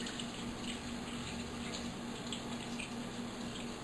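A kitchen tap runs in a steady, even stream while the inside of raw meat is rinsed for a Valentine's dinner, a constant rushing wash heard alone at moderate level.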